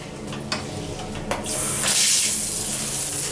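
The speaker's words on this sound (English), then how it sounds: "Have you ever washed keyboard on the shower?" Water from a shower sprays steadily onto a keyboard being washed, a loud broadband rush that swells about halfway through and keeps pouring, with a few brief knocks before it.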